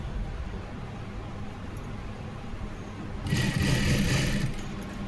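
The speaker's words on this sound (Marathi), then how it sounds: "आणि आता पायपिंगवरती व्यवस्थित मधोमध शिलाई टाकायची आपल्याला" A sewing machine stitching piping on a blouse hums softly, then runs faster and louder in a steady whirring burst over the last couple of seconds.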